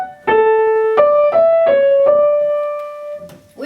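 A melodic passage from Telemann's Minuet is played as a clear single line of about six notes, moving stepwise and ending on a long held tone, close and fairly loud with no speech over it.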